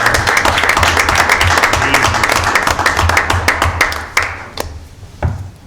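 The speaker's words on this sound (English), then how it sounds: "I just like to applaud them." Board meeting attendees applaud for several seconds, a dense patter of clapping in a meeting room that thins out into a few last isolated claps.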